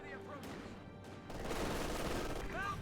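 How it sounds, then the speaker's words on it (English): Thompson submachine guns fire in Company of Heroes 2 as a steady, crackling rattle of automatic fire that swells louder midway, mixed with a battle din while a commentator talks over it. "Grenadiers open fire up the Rangers. Charging straight at the Grenadiers here with the Thompsons."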